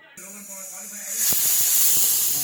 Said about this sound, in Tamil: நாலு விசில் வந்துருச்சு